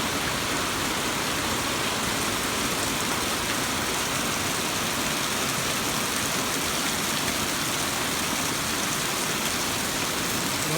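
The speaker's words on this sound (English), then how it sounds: "Good thing I heard the rain when I did." Steady, dense rain drums on a roof at a farm with mulberry trees, lemongrass and hay, a continuous close hiss holding an even level throughout with no voices.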